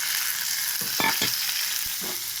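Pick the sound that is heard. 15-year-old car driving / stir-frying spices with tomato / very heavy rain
stir-frying spices with tomato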